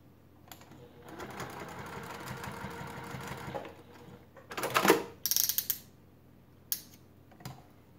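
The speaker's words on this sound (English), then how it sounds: "sew this down with a fourth of an inch seam allowance" A sewing machine stitches a quarter-inch seam, running in a steady whirring burst for a few seconds, then stopping, followed by sharp clicks and handling clatter of fabric and parts, close and fairly quiet.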